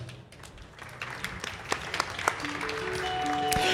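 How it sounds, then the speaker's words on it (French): An audience applauds a young radio columnist contestant at a talent final at a radio fair, scattered clapping with sharp individual claps that builds and thickens while sustained tones start up underneath. "je vous demande de l'applaudir"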